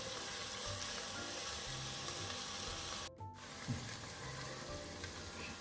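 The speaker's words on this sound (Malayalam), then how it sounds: "എന്നിട്ട് നല്ലപോലെ വരട്ടാം." Food sautéing with salt in a hot pan, a continuous broadband sizzle with faint stirring scrapes, steady and close, with one brief interruption partway through and no talking.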